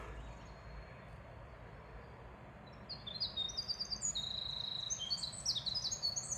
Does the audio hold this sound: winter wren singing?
yes